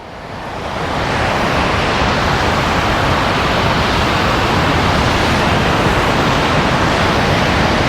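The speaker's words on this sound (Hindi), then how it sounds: "लहरें क्योंकि यहाँ की बहुत बढ़िया रहती है, बहुत ज़बरदस्त रहती हैं" Ocean surf rolls in steadily at the surfing beach in Canggu, Bali, a loud continuous wash of breaking waves that swells up over the first second and then holds as a dense roar with no talk.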